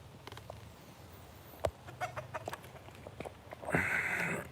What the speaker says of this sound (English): The chickens are gonna eat the turkey.